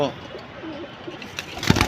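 Pigeons kept at home, including a pair of hammer silver birds, coo in low soft murmurs over a steady background hum, with a brief louder rustle or flutter near the end.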